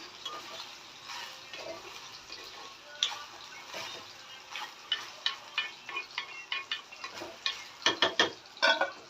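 A utensil scrapes and clacks against a pan in repeated strokes as eggplant cooks without water, quickening toward the end, with faint sizzling underneath.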